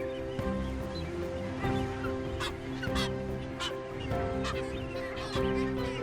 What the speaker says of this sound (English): A breeding colony is seldom, if ever, quiet, as the incessant high-pitched calls sound out.